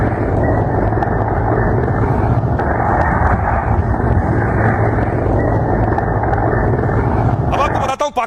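Loud, continuous rotor and engine roar of a helicopter, steady throughout and close, with a brief rustle at the very end.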